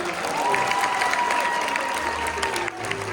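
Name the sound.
applause for song creator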